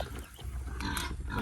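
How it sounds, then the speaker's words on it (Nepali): A farm pig squeals and grunts at feeding time at moderate distance, a rough, strained cry rising over low rustling background. "सुँगुर कराउँदैछ उता चारो खाने बेला भयो,"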